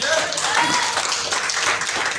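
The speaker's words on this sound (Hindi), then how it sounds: "अपने लिए जोरदार ताली बजा दीजिए" An audience at a business leadership talk breaks into loud, sustained clapping, a dense wash of hand claps close by with a voice partly audible over it.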